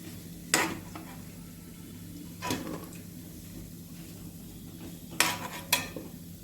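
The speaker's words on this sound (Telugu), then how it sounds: "లైట్ గోల్డెన్ బ్రౌన్ కలర్ వచ్చేంత వరకు వేంపాలి వీటిని" Jackfruit pieces fry in oil, giving a steady soft sizzle broken by several sharp metallic scrapes and clinks of a utensil against the pan.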